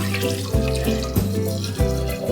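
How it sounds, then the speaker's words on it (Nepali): Water pours steadily into a pot of chana and moong dal, a continuous splashing flow with a few brief bumps, close and fairly loud. "पानी राख्दैछु"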